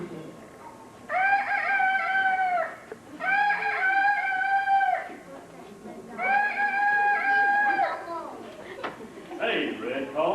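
A voice imitates a rooster crowing three times in long drawn-out calls, with pauses between them, during a storytelling reading.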